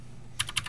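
A few quick keystrokes on a computer keyboard as a password is typed, two or three close, crisp clicks over a low background hum.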